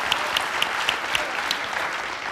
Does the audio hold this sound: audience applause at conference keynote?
yes